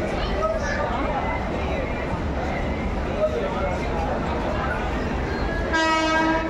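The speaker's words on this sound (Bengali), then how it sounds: "আমরা নিউ দিল্লি স্টেশনে ওয়েট করছি, হাওড়া রাজধানী এক্সপ্রেস ঢুকবে" Howrah Rajdhani Express pulling into New Delhi station: a steady, loud rumble of rolling rail cars fills the platform, with murmuring voices beneath and a sustained train horn sounding near the end.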